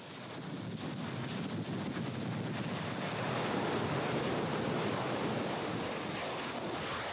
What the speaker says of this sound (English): Heavy surf pounding against the growing shoreline may shatter and tear the pahoehoe as it emerges from tubes in the tidal zone.